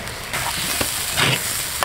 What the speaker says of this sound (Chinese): 下入配菜